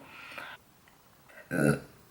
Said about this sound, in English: excuse me, I just keep burping